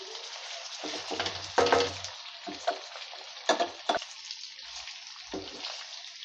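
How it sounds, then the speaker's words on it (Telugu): Pre-boiled chicken frying for a chicken pickle sizzles steadily over a medium flame, broken by scraping, clattering stirs of a spoon against the pan at irregular intervals. "ఇగోండి కలుపుకుంటూ వేగనివ్వాలన్నమాట దీన్ని"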